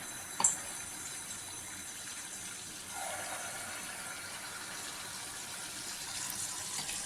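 Wheat appam batter frying in oil on a low flame gives a steady, soft sizzling hiss throughout, fairly quiet and close, with a brief brighter crackle near the start and no talking.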